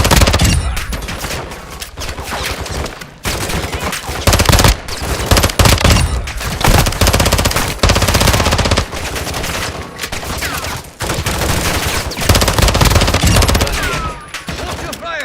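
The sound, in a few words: machine gun fire in Call of Duty Warzone 3 DMZ video game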